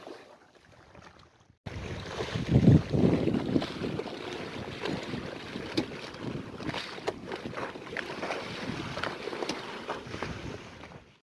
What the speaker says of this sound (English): And just like that, the wind is back.